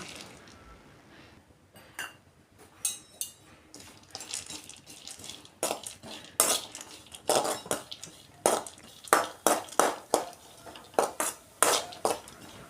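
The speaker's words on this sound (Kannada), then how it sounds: "ಬಾದಾಮಿ ಗೋಡಂಬಿ ಸಣ್ಣ ಚೂರುಗಳಾಗಿ ಮಾಡಿಕೊಂಡು ಅದನ್ನು ಸಣ್ಣ ಉರಿಯಲ್ಲಿ ಹುರಿದುಕೊಳ್ಳೋಣ" Chopped almonds and cashews being stirred in ghee in a metal pan over a low flame, with repeated scraping and clinking of a spoon against the pan in irregular bursts.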